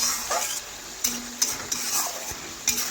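Fried paneer being stirred into a simmering gravy, soft bubbling sizzle broken by a few distinct spoon scrapes and taps against the pan, close and moderately loud, with no talking.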